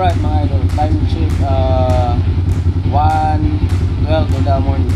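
A motorcycle engine warming up, idling with a steady low rumble throughout, while people talk over it nearby.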